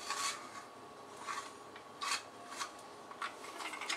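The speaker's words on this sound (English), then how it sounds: "Well, I'm going to try to grate our cheese." Sharp cheddar cheese is rasped across a hand grater in a home kitchen. Faint, scratchy strokes come in an uneven rhythm, with several distinct passes over a quiet background.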